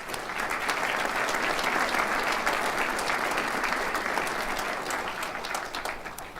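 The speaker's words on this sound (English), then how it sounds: "Can we give them all a round of applause?" Sustained applause from a large crowd at a graduation ceremony, steady and dense throughout with a slight fade toward the end.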